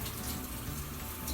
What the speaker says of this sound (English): Run it under some water, cold water, of course.